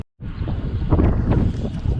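Crosswind gusting across a microphone while bikepacking along the French Atlantic coast, a loud, rough rumble of buffeting that starts abruptly and keeps surging for the whole moment, with no voice over it.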